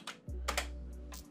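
A few quick keystrokes on a computer keyboard while entering a search for grunge textures, short clicky taps over a steady low hum, close and fairly quiet.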